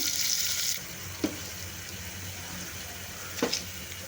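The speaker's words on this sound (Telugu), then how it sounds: "దీంట్లోకి ఆనియన్స్ కూడా వేసేసుకుంటున్నాను ఆనియన్స్ కూడా బాగా ఫ్రై అయ్యే వరకు ఉడికించుకోవాలండి ఆయిల్లోనే" Onions frying in oil for a mutton trotters curry: a bright close sizzle at first that settles into a quieter steady hiss, broken by two sharp knocks of a spoon against the pan.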